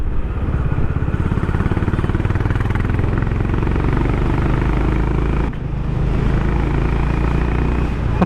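Close and loud, a Honda H'Ness motorcycle exhaust gives a steady deep, pulsing rumble during a ride, with a brief dip in level midway before the throbbing engine note picks back up.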